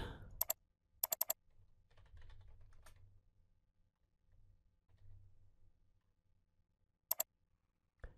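Fingers tap on a computer keyboard in short bursts of quick clicks with pauses between them, close and quiet over a low background hum.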